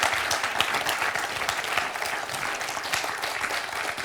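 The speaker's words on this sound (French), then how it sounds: "On applaudit Maréline." A studio audience on a French TV quiz show applauds a contestant with dense, steady clapping that stays loud and even throughout.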